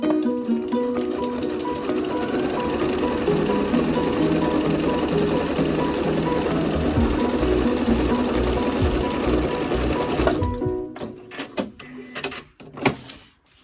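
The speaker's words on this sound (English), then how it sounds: "I'm going to sew down here" A sewing machine stitches a makeup bag in a long, loud, even run of rapid mechanical clatter for about ten seconds, then stops, leaving a few scattered clicks and knocks.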